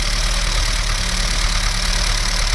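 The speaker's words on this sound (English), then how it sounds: "Little side valve Ford engine." A little Ford side-valve engine on a 1940s Fordson tractor idles steadily and loudly close by, with an even low rumble and a fine regular mechanical chatter.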